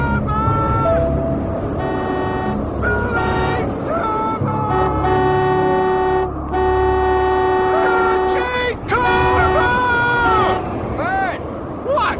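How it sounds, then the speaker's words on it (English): A car horn toots again and again in sustained blasts and short beeps across the whole stretch, loud and close, with rumbling in the background. "Just keep blowing that thing. Here, you watch, let me honk."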